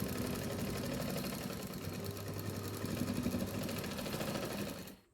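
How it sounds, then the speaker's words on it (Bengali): A sewing machine stitches a lungi in a continuous, rapid mechanical whir that holds steady for several seconds, then stops abruptly near the end. "দুদিকটা ভালোভাবে টান করে ধরবে, তারপর সেলাই করবে"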